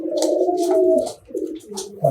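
Archangel, racing homer and Giribaz pigeons at a loft coo in a steady, throaty stream close by, with a brief pause before the low cooing picks up again.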